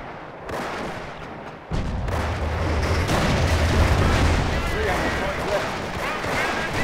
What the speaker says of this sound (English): Perhaps you hear a couple of snipers picking off at the Panzer Elite Blob